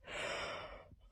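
A storyteller's voice imitates a wolf yawning: one long, breathy exhaled yawn that swells quickly, holds, then trails off into a soft sigh within about a second, close and quiet.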